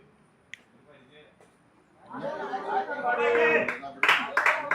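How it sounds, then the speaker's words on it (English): Cricket teams cheering their players from the field during a Champions Trophy semi-final, a burst of clapping, shouts and laughter that swells after a quiet start, moderately distant. "Both the teams cheering their players on in the field."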